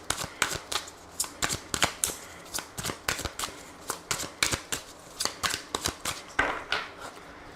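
Tarot cards shuffled by hand, a steady run of crisp riffling flicks and slaps repeating rapidly and close up for several seconds, with no talking.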